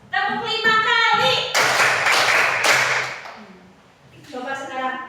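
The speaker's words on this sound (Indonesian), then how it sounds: "Tepuk 5 kali." Hands clapping in a children's counting exercise, a quick cluster of sharp claps framed by a voice giving instructions before and after, close and clear.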